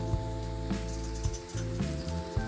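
Potatoes fry in a pan until golden, giving a quiet, steady crackle and sizzle with scattered pops over a low background hum.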